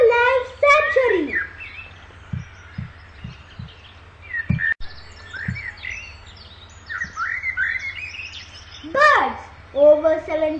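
Birds at the Vedanthangal bird sanctuary near Chennai give bright, repeated chirps and sweeping calls in bursts, some near and loud, others fainter, over a low steady background hum.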